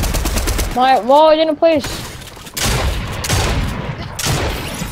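Fortnite gunfire, including shotgun blasts, comes as sharp broadband bursts that follow a brief stretch of a player talking, loud and close, with game noise underneath.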